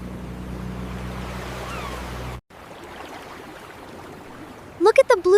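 A small fishing boat pushes off from shore onto open water, with steady surf and wash sound, a brief cut, then softer water and wind ambience as the boat moves out, with a voice speaking near the end.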